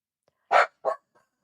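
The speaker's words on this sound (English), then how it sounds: "Zeke's barking" A pet dog named Zeke gives two sharp, close barks at home, the first louder, with a faint yelp after them.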